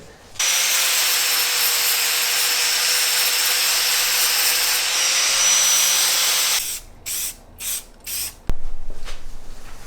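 A grinder smooths crude welds on a Honda CB400T motorcycle frame with a loud, steady abrasive whine for several seconds, then breaks into a few short bursts before a sharp clank and a fading ring.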